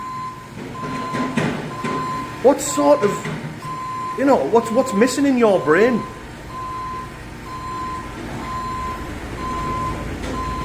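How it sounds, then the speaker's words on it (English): A truck's reversing alarm beeps steadily in a regular rhythm throughout, while people talk over it in the foreground. "Just sits with it in reverse. Beep, beep, beep, beep."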